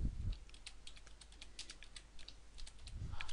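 Keys clatter on a computer keyboard in quick irregular taps, fairly close but quiet, with brief pauses between short bursts of typing and no talking.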